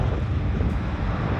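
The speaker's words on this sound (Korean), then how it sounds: "어우 바람" Strong wind buffets a handheld microphone while walking outdoors on a city street in Thessaloniki, Greece, producing a loud, constant low rumble that covers everything else.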